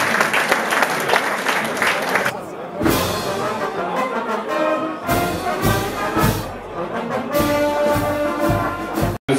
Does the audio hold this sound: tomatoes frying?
no